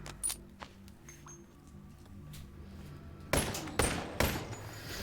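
Sharp pistol shots in the Boneworks VR game on Valve Index: a couple of isolated cracks early on, then a quick run of three loud, close shots near the end over a low steady hum.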